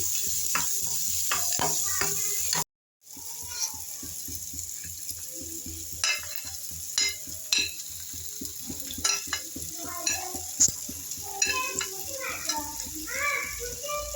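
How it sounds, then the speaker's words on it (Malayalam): Spoon scrapes and clinks repeatedly in a pan as soya chunks fry steadily in masala, with intermittent stirring strokes close by. "ഇനി അതിലേക്ക് നമ്മൾ മാറ്റി വെച്ച സോയ ചേർത്ത് നമുക്ക് ഇളക്കാം"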